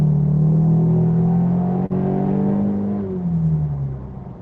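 A car engine drones in a steady sustained tone as it climbs toward 6,000 RPM, the pitch holding and then dropping as it eases off, heard from inside the car with no talking.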